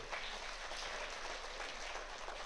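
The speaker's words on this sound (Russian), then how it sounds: "Аплодисменты!" An audience at an outdoor advertising awards ceremony gives steady, dense applause, a continuous wash of many hands clapping at a distance, fairly soft and without speech.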